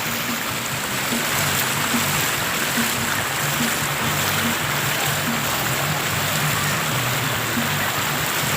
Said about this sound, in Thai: นี่เป็นน้ำไหล